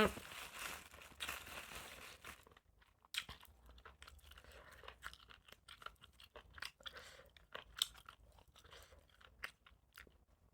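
Crunchy spicy Thai shellfish salad being chewed close to the mic, with wet crisp bites and crackling munching in irregular bursts, plus a brief rustle at the start.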